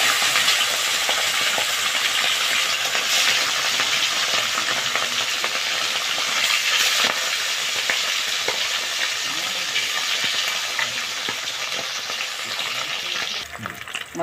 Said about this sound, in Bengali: খয়রা মাছটাকে ভেজে নিচ্ছি